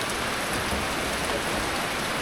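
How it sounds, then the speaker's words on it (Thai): Rain falling steadily in a rural village, an even dense hiss of drops hitting surfaces nearby, constant and fairly loud throughout with no voices. "ทุกคนฝนตกแล้วนี่"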